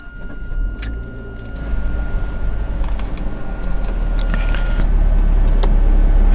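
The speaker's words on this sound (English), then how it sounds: "it's going to play that little beep chime right there" Turning the key in a 2017 Fiat 500L with the 1.4L turbo sets off a steady electronic ignition chime, a pair of clear tones held for several seconds over a low cabin hum before cutting off, leaving a quiet interior rumble.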